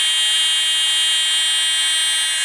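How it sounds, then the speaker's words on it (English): An electronic buzzer driven by a P-channel MOSFET switch circuit sounds as a loud, steady, unbroken high-pitched tone that holds without pause. "the buzzer turns on."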